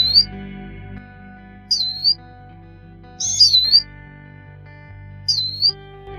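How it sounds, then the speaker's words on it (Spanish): A Eurasian siskin gives four high, drawn-out call notes, spaced about every one to two seconds, clear and close over a faint low background hum. "Su reclamo es una nota aguda y prolongada."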